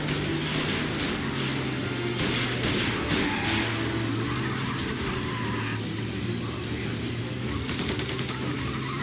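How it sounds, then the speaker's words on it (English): A car motor chases a booze truck in Mafia Definitive Edition video game, a steady engine drone with a sustained low hum and scattered bursts of gunfire over the road noise, no voices. "Another motor coming after the booze truck."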